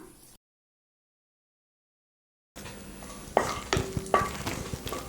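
Cashew nuts fry in ghee in a pan for carrot payasam, stirred with a utensil; after a brief silence, a soft sizzle rises under scraping and a couple of sharp clinks against the pan.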